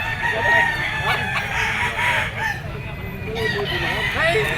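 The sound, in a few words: gamecock rooster crowing at a pet market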